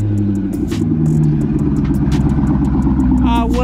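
A Chevrolet Corvette C6 engine idles and burbles nearby with a steady low rumble, joined by a brief rev-like swell, while people talk over it throughout.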